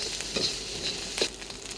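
Rice with Isan sausage is stirred and tossed in a hot wok, with light scraping strikes of the spatula and a soft sizzle, fairly quiet and with no talking.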